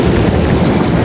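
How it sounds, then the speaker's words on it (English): Strong wind on a very windy day roars and buffets the microphone in a loud, continuous rush with no voices. "It's kind of windy. Very windy today."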